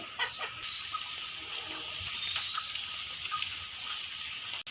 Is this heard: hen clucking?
yes